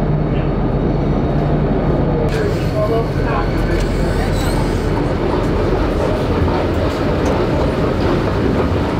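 A train rumbles steadily along the rails with a dense, continuous roar and occasional metallic squeals, close and loud throughout.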